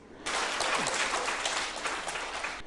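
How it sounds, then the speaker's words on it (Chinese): An audience at a peace forum breaks into a sudden burst of applause: dense, even clapping that starts sharply and continues at full strength for a couple of seconds. "此话一出，现场便响起一阵掌声。"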